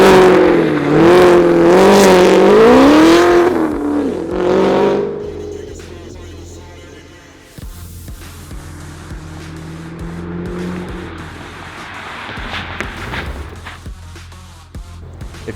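A Katech Whipple-supercharged 2018 Camaro ZL1 1LE revs loudly and close by, its engine note climbing and falling over several seconds. It then settles to a lower, steadier rumble with a faint whine.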